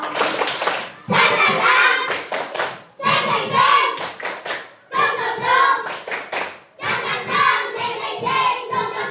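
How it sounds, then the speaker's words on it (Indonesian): A classroom of children does a rhythmic 'tepuk semangat' clapping cheer in bursts of quick patterned claps with short pauses between phrases, loud and close, with voices chanting along. "Tepuk semangat baru."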